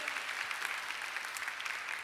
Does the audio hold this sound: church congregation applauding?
yes